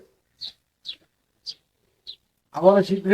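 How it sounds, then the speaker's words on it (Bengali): Pigeons in a loft where squabs are being raised give four short, high, squeaky cheeps spaced about half a second apart. A voice then starts talking over them at the end. "কবুতর কিন্তু বেটিং শুরু করছে"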